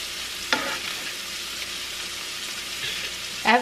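Jerk Rasta pasta sauce with whipping cream bubbling in a pan, a low steady sizzle with a couple of spoon scrapes, one near the start and one louder at the end.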